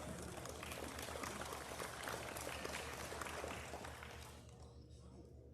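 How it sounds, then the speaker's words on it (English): Audience at a youth livestock show applauds the kids, a steady wash of clapping at moderate distance that fades out toward the end, with faint hum underneath. "Give those kids a good applause"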